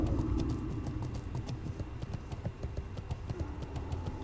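Horse mount hooves running in World of Warcraft, a quick, even clip-clop rhythm repeating steadily throughout, moderately loud over a low rumbling background.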